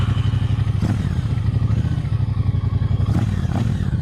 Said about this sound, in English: Such a lovely tone to that exhaust.